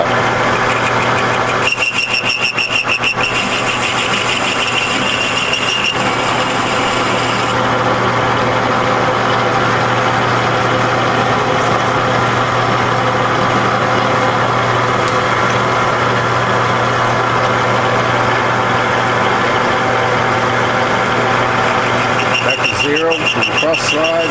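A lathe cuts an internal thread inside an unknown tube with a Banggood SNL0016Q16 threading bar and 16IR 3/8 insert, making a loud, steady motor hum with a whining tone during the cut, while someone talks throughout.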